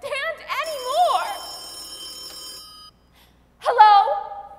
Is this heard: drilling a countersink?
no